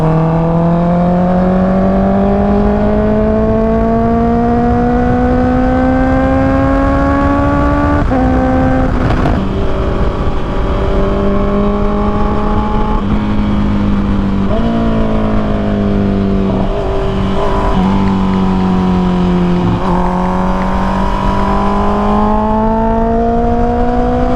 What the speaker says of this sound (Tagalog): First long ride and twisties ride with a Honda CBR 650R.